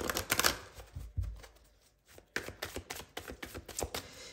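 Tarot cards shuffled by hand ahead of a reading, a run of quick papery riffles and flutters in bursts, close and fairly loud, with a short lull in the middle.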